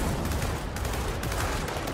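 Dense, continuous rapid gunfire in a Gears of War 4 battle, loud and sustained with overlapping bursts and no pauses.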